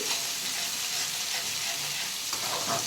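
Oil sizzles and fries steadily in a pan as potato curry cooks, a close, continuous hiss with faint stirring scrapes near the end.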